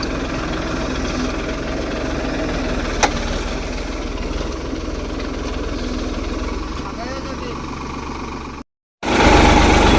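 A tractor engine idles steadily at a peanut harvest, a constant, loud mid-range rumble with a faint voice over it, then a brief dropout before the engine noise returns.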